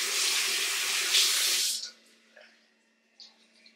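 A bathroom tap runs with a steady close hiss during face washing, then shuts off partway through, leaving a few faint splashes and drips.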